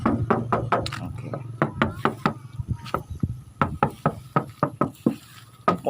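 Sharp knocks on the hollow metal body of a 1995 Isuzu Panther, struck in quick irregular clusters of two to four raps, fairly close, with a low steady hum underneath.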